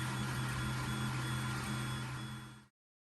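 A 3D printer's steady mechanical hum with a low whine runs throughout, continuous and fairly even, then cuts off abruptly near the end.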